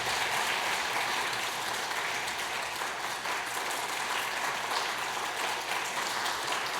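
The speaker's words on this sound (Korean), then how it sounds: "수료증과 선물을 드릴 때 박수로 축하해 주시기 바랍니다" Steady, dense applause from a church congregation during a Sunday worship service, greeting certificate and gift recipients; sustained clapping at even loudness with no talk over it.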